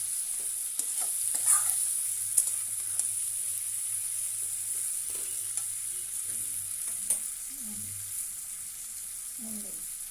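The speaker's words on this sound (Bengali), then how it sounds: "গ্যাসটাকে আমরা মিডিয়াম হাইতে রাখবো, রেখে সমস্তটা কষাবো।" Dried fish (shutki) frying on a medium-high flame, with a soft, steady sizzle and occasional faint scrapes of stirring, heard close but quiet.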